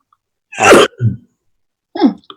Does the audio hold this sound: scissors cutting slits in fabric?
no